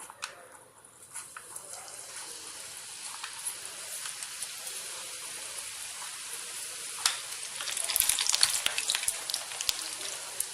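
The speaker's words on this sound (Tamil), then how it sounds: "இப்போ எண்ணெய் சூடாயிருச்சு இப்போ நான் அதில் புளிஞ்சு விடுறேன்" Sweet sev dough made with jaggery is pressed into hot oil, giving a steady moderate frying sizzle with scattered crackles and pops that grow busier toward the end, without voices.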